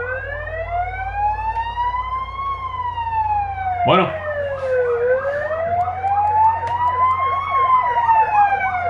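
Fire engine sirens blare loudly outside as several tones sweep slowly up and down in overlapping wails, with a short burst of a voice partway through.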